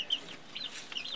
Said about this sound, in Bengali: আর এরকম মুরগি কিন্তু সারাদিনই আশ্রাআশ্রি করতেই থাকে।